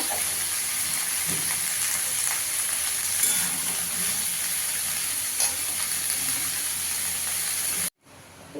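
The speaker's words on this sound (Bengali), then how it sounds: "নুন দিয়ে এঁচোড়টা একটু ভালো করে ভেজে নেব" Young jackfruit frying in hot oil with salt in a pan, giving a steady, loud, close sizzle that continues unbroken before cutting off abruptly just before the end.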